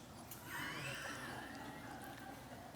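A horse neighs as a sound effect, with a long, rising and then falling whinny, fairly faint and set against a hissy background.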